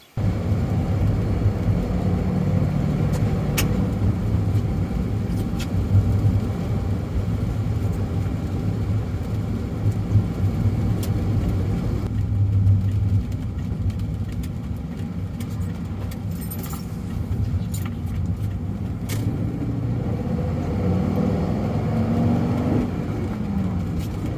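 A vehicle drives along a road in the rain while hauling an M2B seed cleaner, its steady low engine and tire rumble continuous and close throughout, with no talking.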